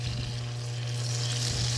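Butter melts in a pan over low heat with a steady, soft sizzle and crackle and a constant low hum underneath, close and unbroken, with no voices.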